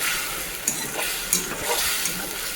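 Mustard-type spices crackle and spit in hot oil for a Bengali biuli dal, a dense, close sizzle with a few sharp pops standing out, no voices.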